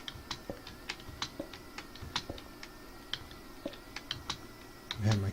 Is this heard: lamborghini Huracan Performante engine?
no